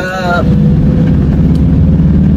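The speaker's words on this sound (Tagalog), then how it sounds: "kung naririnig yung makina" A steady, loud van engine drone rumbles throughout, low and constant like a vehicle cruising in second gear on a steep road, with a brief faint tone at the very start.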